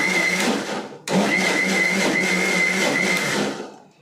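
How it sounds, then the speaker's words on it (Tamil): A kitchen mixer grinder whirs loudly as it blends sugar and milk, running in two bursts separated by a brief pause, then winding down at the end. "சுகர் அப்புறம் பால் அதெல்லாம் போட்டு மிக்சியில் அரைக்கிறேன்"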